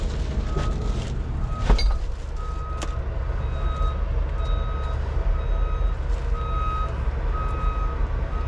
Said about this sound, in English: Gonna beep at us until we put our seatbelt on.